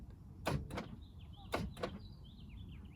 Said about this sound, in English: The door actuators are so fatigued by this point that, you know, they don't even want to work at all.